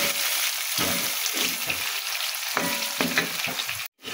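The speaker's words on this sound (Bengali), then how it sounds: "দুটা একসাথে ভেজে নেব," Salted banana and eggplant fry together in hot oil, a close, crackling sizzle with irregular stirring bursts, briefly cutting out near the end.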